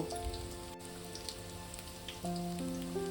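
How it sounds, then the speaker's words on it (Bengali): Chow chicken pakoras deep-frying in hot oil make a steady, dense sizzle and crackle that runs throughout at moderate level, with a faint tonal hum in the background. "আর একটু লাল করে ভেজে আমি এগুলো তুলে নেব।"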